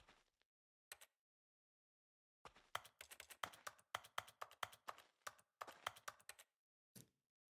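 Computer keyboard typing in The Stanley Parable: Ultra Deluxe, a few isolated key clicks followed by a dense, irregular burst of rapid tapping, then a final lone click, close and clear with no voices.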